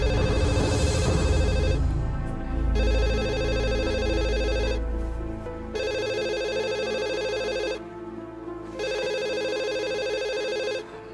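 A house telephone rings loudly in repeated electronic bursts, three long trills separated by short pauses, in a late-night domestic scene from a TV drama.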